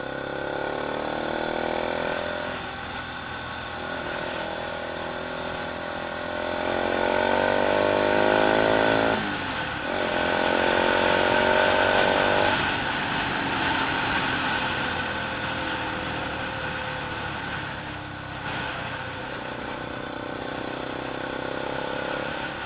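A loud aftermarket exhaust on a Bajaj Pulsar RS 200 motorcycle drones steadily, its pitch rising and falling with throttle changes, close and continuous throughout.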